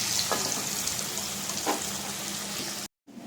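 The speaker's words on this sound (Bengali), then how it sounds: "ধোকাগুলো ভেজে নিই। আর এত সুন্দর সুন্দর হয়েছে না, কী করবো, একটু লাল লাল করে ভেজে নেবো।" Bengali lentil cakes (dhoka) fry in hot oil, a dense even crackling sizzle with a couple of faint knocks, cutting off abruptly near the end.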